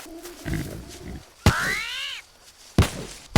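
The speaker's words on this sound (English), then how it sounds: "Why do the armadillos make a sound like a cat?" An armadillo in a jungle survival video game lets out cat-like meowing cries, one long wavering call flanked by sharp thumps, loud and close over a quiet ambient background.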